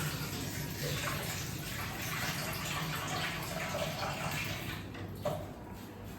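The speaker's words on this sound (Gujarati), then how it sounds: "અહીંયા આપણે વટાણામાંથી પાણીને અલગ કરી લીધું છે" Water drains off white peas that soaked for four hours, pouring in a continuous gentle splash close by, with a brief clatter near the end.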